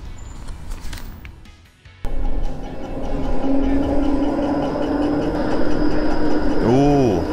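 A tram on a street in Tampere, Finland, arriving with a steady engine drone and rumble after a sudden onset, ending in a rising-falling electric whine as it moves close by.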